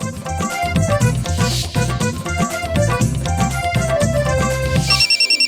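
A melodic electronic ringtone repeats its tune over a steady beat, loud and close, then cuts off near the end.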